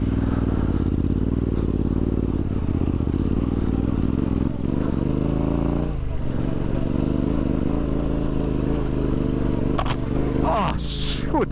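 Adventure motorcycle engine running steadily in second gear while riding, a continuous loud drone with rising revs near the end and some clatter, with a rider talking over it.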